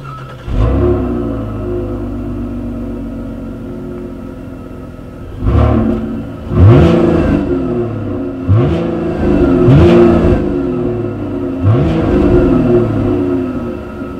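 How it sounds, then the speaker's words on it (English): A 2018 Chevrolet Impala's exhaust idles with a steady low rumble, then comes several sharp revs that swell and fall back, loud and close, with no talking. "So as always, you guys, here is that exhaust clip."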